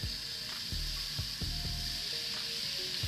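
Souvlaki skewers laid over a hot charcoal grill whose flames have died down sizzle in a steady, close hiss, punctuated by a few clicks and clinks as the skewers settle on the grate.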